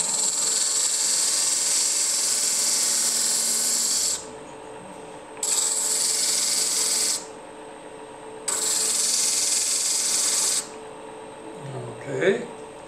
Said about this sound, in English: Why I like this cylinder more than a sanding disc is because it gives me a roundish shape and a lot of dust.